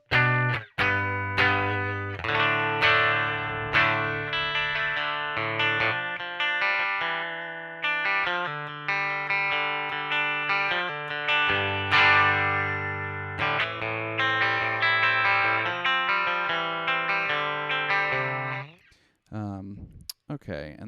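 Warm electric guitar tone through a DSM Humboldt Simplifier amp simulator, a run of picked notes and chords with distorted sustain and light modulation for most of the stretch, ending in a brief pause and a sharp final strum.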